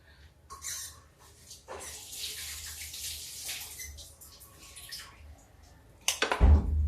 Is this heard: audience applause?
no